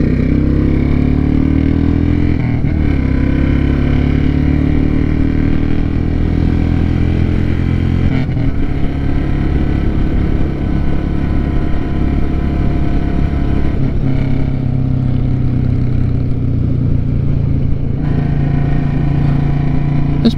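A Royal Enfield Classic 350 motorcycle engine thumping steadily while riding, loud and close with a continuous low rumble and slight rises in pitch as it pulls along.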